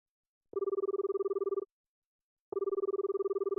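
A telephone rings on a call to a hair salon: two identical buzzing ring bursts, each about a second long, separated by a silent pause, clear and moderately loud with no voices.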